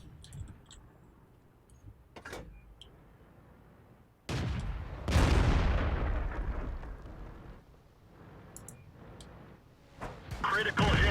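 Artillery fire from a tank in World of Tanks: a heavy, booming blast followed by a second, louder one with a long rumbling decay, then a further burst near the end over quiet background noise.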